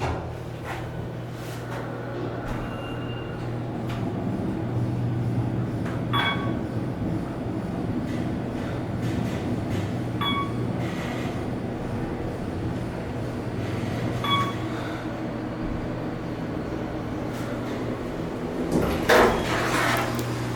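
An Otis Series 1 hydraulic elevator motor at Disney's Coronado Springs in Lake Buena Vista, Florida runs with a steady low hum and drone, broken by occasional faint clicks and clunks from the machinery.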